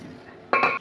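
A metal cooking pot clanks and clinks as steamed amla is tipped into it for homemade amla murabba, a short bright clatter after a quiet moment.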